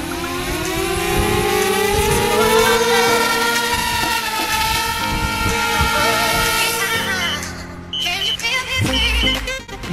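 A DJI Spark drone's motors whine loudly and steadily in flight, a rising high-pitched tonal buzz that holds for several seconds before cutting out abruptly, followed by brief rustling handling noise.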